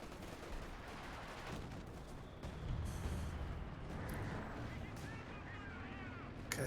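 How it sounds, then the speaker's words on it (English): British artillery fire in a tank battle video game, a rolling barrage of distant booms and rumbling blasts with crackling gunfire beneath, continuous and fairly muffled. "Oh no, that must have been Brit artillery"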